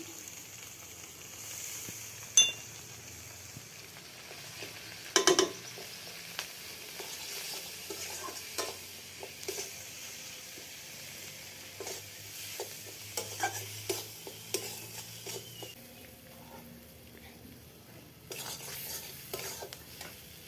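Onion and spice masala with turmeric, chili, ginger and garlic sautés in a pan for Sonabogo fish curry, the low sizzle broken by repeated scraping stirs and sharp spatula knocks against the metal, with no voices.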